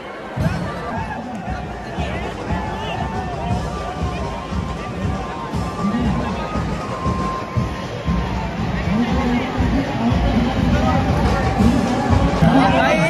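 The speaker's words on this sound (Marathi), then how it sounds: "गर्दी बघा" Dense crowd chatter and hubbub fill the street during the Chintamani Ganesh arrival procession at Chinchpokli in 2024, a steady, loud mass of voices and movement that continues without a break.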